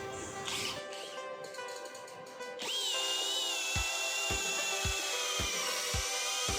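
Up close, a cordless brushless drill with a 10 mm auger bit winds up and holds a high steady whine while boring 15 cm mahogany, with low periodic thumps as the bit chews through wood.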